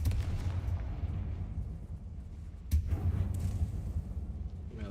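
Confringo blasting spell exploding inside a mine in the Hogwarts Legacy video game, a deep booming burst at the start and a second sharp blast later, over a low rumbling background.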